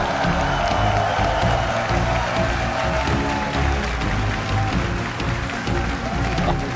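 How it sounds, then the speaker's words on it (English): Steady applause from a large convention crowd in Amsterdam fills the room, a dense continuous wash of clapping with no pauses. "give a massive round of applause, Amsterdam, and you at home, to Roy Graham"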